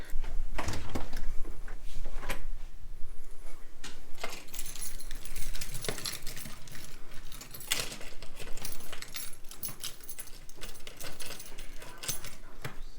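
Metal keys jangle and clink in a busy, continuous rattle close by, with sharp bright bursts scattered throughout and no talking.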